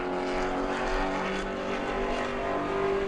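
Sportsman stock car, car number 1, at speed during qualifying at New Smyrna on the SRL National Sportsman Series Tour, a steady loud engine drone with harmonic whine holding throughout, no talk.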